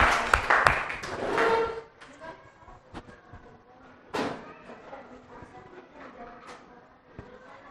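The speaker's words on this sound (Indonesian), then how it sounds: "Tepuk tangan buat kelompok Alia" Classroom applause for a student group about to present: a dense burst of clapping over the first two seconds, then fading into quieter room noise and scattered voices.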